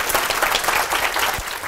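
Steady audience applause after the introduction of a speaker at an indie game development talk, dense and continuous clapping from a crowd throughout with no voices over it.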